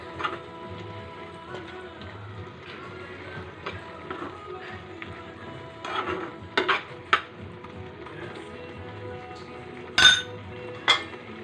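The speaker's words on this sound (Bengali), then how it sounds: "ঢাকনা খুলে 1-2 বার এরকম নেড়ে চেড়ে দেবো।" After the lid comes off, vegetables for sukto are stirred in a pot: a metal spoon clinks, taps and scrapes against the pot in scattered bursts over a quiet background, louder near the end.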